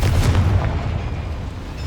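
A Confringo spell explodes in the Hogwarts Legacy video game, a loud, booming blast with a heavy low-end rumble that decays across the next second or two. No voices are heard.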